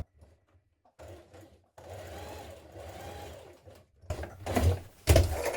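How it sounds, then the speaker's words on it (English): A sewing machine stitches down the seams of pyjama bottoms in several short whirring runs separated by pauses, close and fairly loud, ending in louder clunks as the fabric is handled. "you want to stitch down your seams like this"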